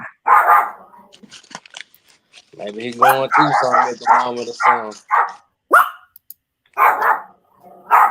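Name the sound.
dogs barking outside in South Memphis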